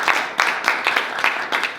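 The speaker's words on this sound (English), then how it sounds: "Let's give Barbara another round of applause" An audience gives a round of applause to honor a speaker at a law section event, with brisk, even clapping close by, lively and sustained.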